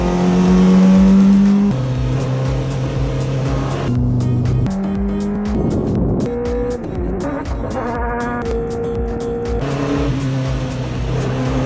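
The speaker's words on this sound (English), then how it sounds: "The Porsche is just starting up now" Porsche Group C race car engine starting and idling, a loud close burbling drone with shifting tones, blips of throttle and uneven revs, no talk.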